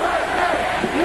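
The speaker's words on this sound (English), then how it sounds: "Crowd loving it here on Saturday night, as well they should." A Saturday night wrestling crowd at a televised title match cheering loudly and continuously, with dense roaring and shouting voices filling the whole moment.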